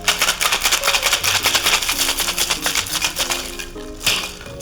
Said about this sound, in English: We're gonna give this a good shake now.